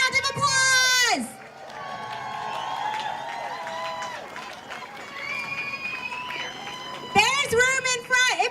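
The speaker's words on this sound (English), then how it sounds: "Give her a round of applause." Outdoor protest crowd cheering and applauding, with whoops and shouts over dense clapping, swelling loudly at the start and again at the end, with voices mixed throughout.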